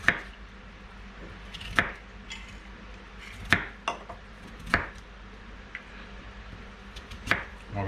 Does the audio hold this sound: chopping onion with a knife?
yes